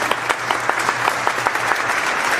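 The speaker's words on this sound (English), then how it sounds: "A round of applause, please." An audience claps steadily in warm, dense applause for a speaker introduced at a strategic leadership presentation, sustained at an even level throughout without voices.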